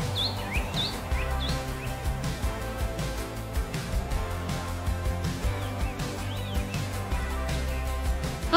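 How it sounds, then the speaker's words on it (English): Birds chirp and tweet around a treehouse, with repeated short high calls scattered over a steady low background hum and rumble throughout. "I come up here to listen to the birds"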